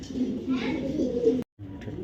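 Large racer pigeons coo in low, rolling phrases close by, fairly loud and nearly continuous, broken by a brief silent cut near the end.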